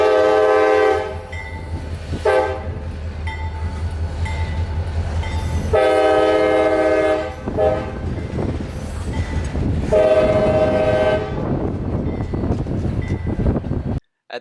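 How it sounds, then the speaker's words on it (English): CSX local freight train leaving Yeoman Yard southbound on the Palmetto subdivision in Central Florida, with loud repeated horn blasts in a long-short pattern over the rumble and clatter of passing cars, ending abruptly. "Y10315, a local train coming out of Yeoman Yard heading south on the Palmetto subdivision"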